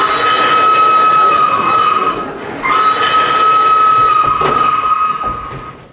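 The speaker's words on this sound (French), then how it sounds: "J'entends siffler le train." A sustained high whistle tone blares over the rumble of a passing train, dipping briefly midway, with a sharp clank near the end.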